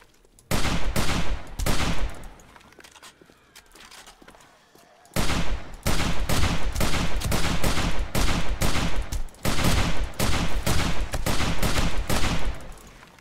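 Bursts of rapid gunfire hit zombies in a video game. The shooting comes in long, loud, close fusillades, broken by one short quieter gap.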